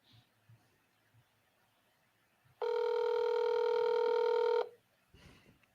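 A telephone call placed on a handset: a faint dial click, then one loud, steady electronic ring tone holding about two seconds before cutting off, with a soft rustle afterward and no talking.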